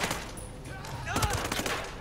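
Gunfire rings out in the video game Ghost Recon Breakpoint, a short burst of sharp shots at moderate volume over a busy game soundscape.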